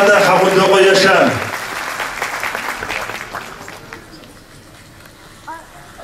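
An indoor audience claps for an association president walking on stage at a Circassian music event. The applause is loud at first, then thins out and fades away over a few seconds.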